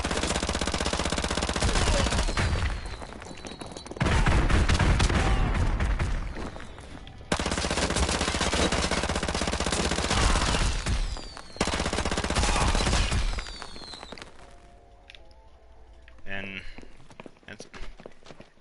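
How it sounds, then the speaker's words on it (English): Cluster grenades from a cheat explode among heavy gunfire in Call of Duty: Modern Warfare 2 Remastered campaign, with dense rattling bursts and blasts in long loud stretches, then a quieter tail with game voices. "it's cluster bombs, which pretty much one grenade explodes"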